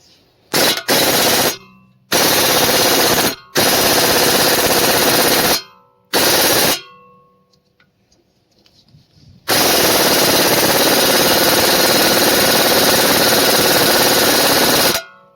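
An impact wrench drives an ANBULL 1/2-inch universal impact socket in loud, rapid hammering bursts. Several short blasts are separated by quiet gaps, then one long sustained run closes it.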